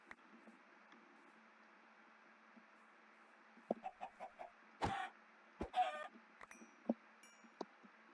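Minecraft chickens cluck in scattered bursts after a quiet stretch, a cluster of short close clucks followed by louder squawks and a few lone calls over low ambient hiss, with no talking.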